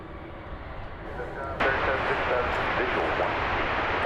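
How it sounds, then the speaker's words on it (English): An American Airlines Airbus A321 jet bound for San Francisco gives a steady engine rumble at an airport that swells sharply partway through and stays loud. "It is an Airbus"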